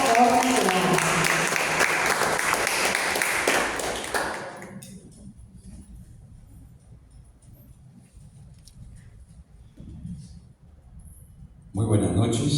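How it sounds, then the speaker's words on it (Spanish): Loud audience applause for a teacher at an evening ceremony fills the first few seconds, then drops away to a quiet room with scattered faint sounds before a voice starts speaking. "Un aplauso muy fuerte, por favor, para el docente Luis Alberto Horna Guevara."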